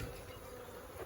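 Honey bees swarm densely around a large, overflowing hive close to swarming, making a steady, close, unbroken hum with no voices.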